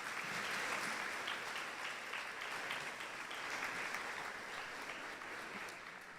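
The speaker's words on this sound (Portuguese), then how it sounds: "Uma salva de palmas para Jesus." A church congregation claps together in sustained applause, a dense, even wash of many hands heard from a moderate distance that fades slightly toward the end.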